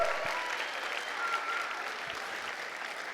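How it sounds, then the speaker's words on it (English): Audience applause at a school talent show in a cultural center hall, a dense, even wash of clapping that holds steady throughout without a break. "Let's give everybody a round of applause"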